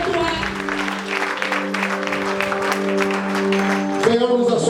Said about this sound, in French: Au nom de Jésus, acclame fortement le Seigneur.